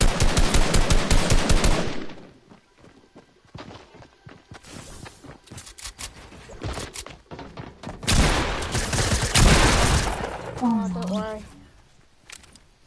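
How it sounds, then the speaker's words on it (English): Rapid submachine gun fire spraying in a video game, a dense burst at the start and another a few seconds later, with quieter gameplay noise between. "That SMG spam."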